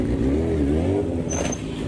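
Motorcycle engine revving hard during a drift, a close, loud rising and falling tone with a sharp higher whine near the end, heard without talk.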